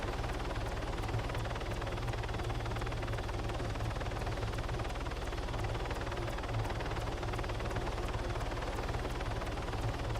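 A helicopter in the Warlords Redux game flies with a steady, loud rotor drone and a fast, even chop that continues throughout, with engine hum underneath and no talking.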